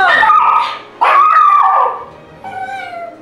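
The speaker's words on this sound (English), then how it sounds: "That's a really loud puppy." A puppy barks loudly indoors in a few sharp, close yaps and yips, with a brief whimpering whine at the end.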